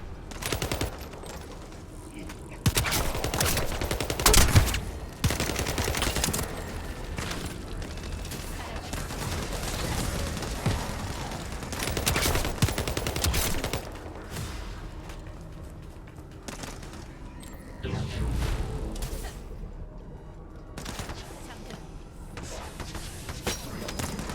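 SMG gunfire in a video game rattles out in rapid bursts and sustained sprays, loud and close, with pauses between volleys and a voice talking at times.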